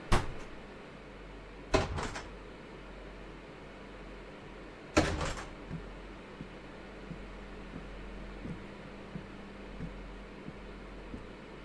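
Train cab doors in the video game Train Sim World 6, a few sharp clunks and latch knocks spread over several seconds against a low hum of cab machinery, followed by faint small clicks.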